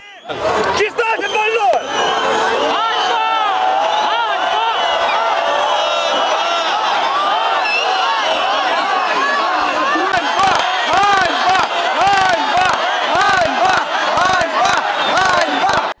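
A protesting crowd on a square outside Chernivtsi town hall shouts indignantly. The roar is loud and sustained, then turns into rhythmic, repeated chanting toward the end.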